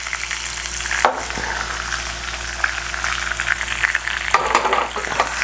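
Chicken sizzling in a pan as it is stirred, a dense crackling fry heard up close, broken by a couple of sharp scraping stirs of the utensil against the pan.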